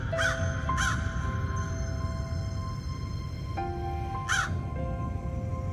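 A cartoon crow caws twice in quick succession, then once more a few seconds later, over a quiet outdoor background with faint steady tones.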